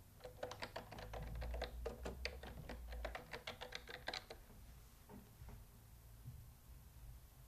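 Quick bursts of typing on a computer keyboard as a category title is entered, clustered close key clicks for a few seconds that then thin out to sparse taps, fairly quiet with no talk.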